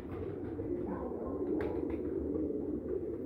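Pigeons coo low and soft in a steady murmur, several birds at once, close by in a breeder's loft with a faint hum underneath.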